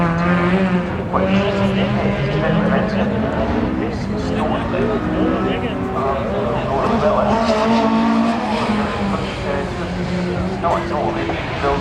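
Rally car number 42 tears past on a McRae Rally Challenge 2025 special stage, its engine roaring loud and steady beneath continuous commentary.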